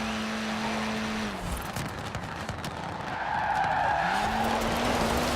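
Tires squeal as an Alpine A110 S1 slides and skids in the video game Forza Horizon 4, the engine droning steadily underneath, the screech dropping away then returning louder.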